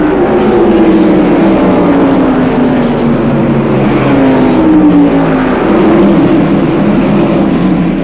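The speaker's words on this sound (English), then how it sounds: "Ward Burton moves over trying to go by Bill Elliott" NASCAR stock cars race past at the 1995 First Union 400, a loud continuous engine roar with sliding pitch as several cars pass close, heard with no talk over it.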